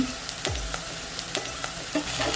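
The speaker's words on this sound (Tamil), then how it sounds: "வெங்காயம் கொஞ்சம் வதங்கிட்டோம். வெங்காயம் வதங்கிடுச்சு." Onions sautéing in a pan for a vegetable kurma give a steady close sizzle, broken by several sharp spatula scrapes and clinks.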